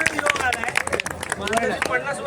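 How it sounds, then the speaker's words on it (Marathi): A crowd of devotees on a pilgrimage walk to Akkalkot claps hands in a brief, uneven burst of applause, with chanting voices and general crowd babble mixed through it. "आवाज टाळ्या टाळ्या टाळ्या."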